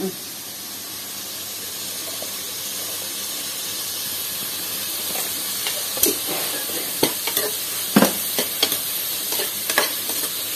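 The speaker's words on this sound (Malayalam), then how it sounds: "അപ്പൊ ഈ സവാള പെട്ടെന്ന് വാടിക്കിട്ടും" Onions with salt sizzle and fry steadily in a pan for Fort Kochi-style pork vindaloo, a continuous hiss broken by scattered scrapes and clacks of a stirring spoon toward the end.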